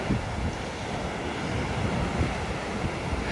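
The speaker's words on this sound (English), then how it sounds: "And there's the Pacific." Pacific Ocean surf at Florence, Oregon roars steadily, a broad wash of breaking waves mixed with wind buffeting the microphone, loud and continuous throughout.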